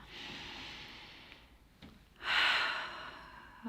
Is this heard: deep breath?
yes